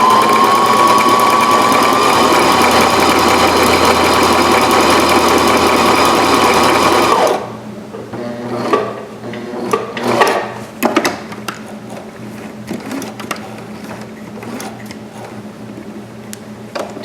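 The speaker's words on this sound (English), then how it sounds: "I'm starting on the left side of the buttonhole, right over my marking." Sewing machine stitching a buttonhole on pajama pants, a loud steady run for about seven seconds that then stops, leaving faint handling clicks and rustles.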